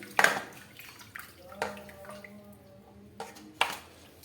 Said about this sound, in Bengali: এবার একটু জল দিয়ে হালকা করে ধুয়ে নিয়ে